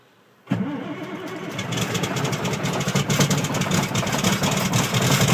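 A 1990 Peterbilt truck's Series 60 diesel engine, cold and fired with a nail starter instead of a key, cranks out of silence and catches at once. It settles into a loud, steady, rumbling idle close by.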